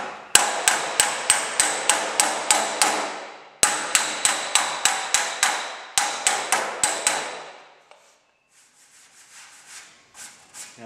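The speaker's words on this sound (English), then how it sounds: "each time I put a hammer blow in place, it's stretching that piece of weld back out again" Hammer and dolly planishing a MIG weld on steel sheet: sharp metallic blows in quick steady runs of about eight strikes, three bursts with brief pauses, loud and close, then quiet faint handling noise.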